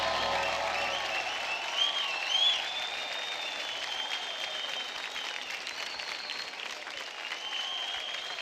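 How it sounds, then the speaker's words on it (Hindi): A studio audience at a televised dance competition applauds a dance performance with sustained, dense clapping throughout, steady and fairly loud, with a few brief swells and a faint crowd murmur beneath. "जोरदार तालियां हो जाए"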